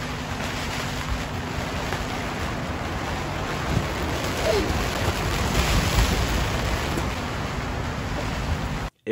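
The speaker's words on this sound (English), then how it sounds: "I got a little bit of footage of inside the tent when it was raining" Heavy rain and gusting wind of about 20 to 25 mph beat on a canvas bell tent at night, heard from inside as a steady, dense roar with no talking.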